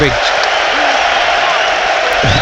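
Football crowd at a Brighton & Hove Albion versus Newcastle United match: steady, broad crowd roar and applause fill the clip, with a commentator's voice over the top.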